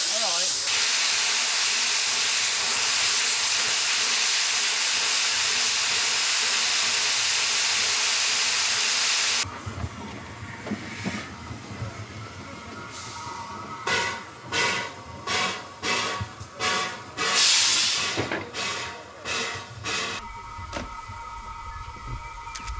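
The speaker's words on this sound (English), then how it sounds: "taking on water, stoking the boiler, letting off steam" A Hayling Billy steam locomotive lets off steam in a long loud hiss for several seconds, then settles into rhythmic chuffing puffs with rail rumble as it works away.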